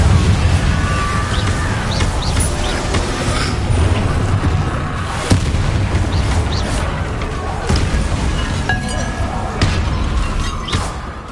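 Repeated Incendio fire spell casts in the PS5 game Hogwarts Legacy during combat, with bursts and crackling impacts over a loud, busy battle mix.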